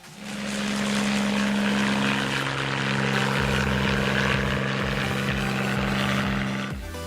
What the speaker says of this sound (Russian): Военный вертолет.